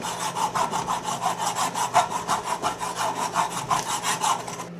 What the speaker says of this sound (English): take my file and just try to clean it up as best I can